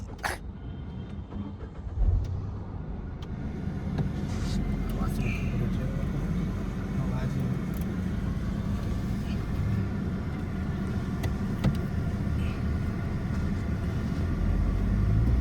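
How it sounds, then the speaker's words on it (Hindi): A used car on a test drive in Faridabad gives a steady low engine and road rumble from inside the cabin, with brief knocks and clicks and a faint voice now and then. "हमने इस गाड़ी का टेस्ट ड्राइव भी ली, जो कि आप वीडियो में देख सकते हैं।"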